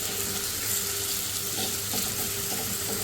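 Onions with garlic-ginger paste and minced chicken keema frying in oil over a low flame, giving a steady close sizzle with soft scraping and stirring clinks throughout.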